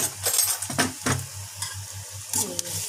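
A spoon stirs and mixes poha ingredients in a hot pan, producing repeated scrapes and clatters against the metal over a soft, continuous sizzle, with a brief busier flurry toward the end.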